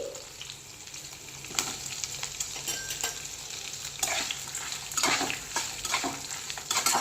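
Fresh grated coconut frying in a pan, a steady close sizzle broken by the scrape and clatter of a spoon stirring it, with no talking.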